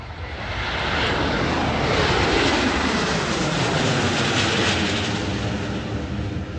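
A Bombardier Global 8000 business jet flies a display at the Farnborough Airshow, its broad engine roar rising over about a second, then holding loud and steady as it passes. No talk over it.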